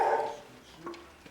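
A search and rescue dog gives a barking alert at a wreckage site, with a couple of brief, fairly faint barks over low background noise.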